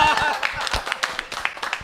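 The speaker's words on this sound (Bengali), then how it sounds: "হাততালি হবে একটা" Several people clap for a visiting meat trader at an Eid al-Adha cow sacrifice gathering, with quick, uneven close claps mixed with talking voices.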